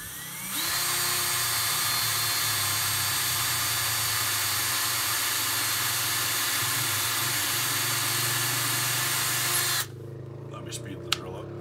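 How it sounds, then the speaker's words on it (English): Power drill with a 1/8 inch bit boring a pilot hole for a front shelf on a Pit Boss pellet grill, a loud steady whine held for about nine seconds that stops abruptly, followed by faint clicks. "take your drill with your 1/8 drill bit and just drill a hole now where the pilot hole is"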